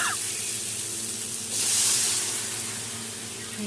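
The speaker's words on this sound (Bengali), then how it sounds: "এখন আমি জল দিয়ে দেবো" Water hits hot fried masala in a pan for vegetarian taro curry, a broad hiss and sizzle that swells briefly then settles into a steady simmering rush.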